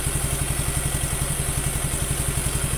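Rough-running Suzuki Nex II motorcycle engine idling close by, a loud rapid, regular thumping pulse with a clattery, uneven edge, steady throughout with no voices.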